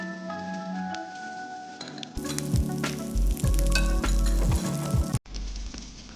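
Vegetables with zucchini sizzling loudly in a pan while being cooked for masala pasta, with steady frying hiss, repeated stirring clatter and a sudden louder surge midway, close and without speech.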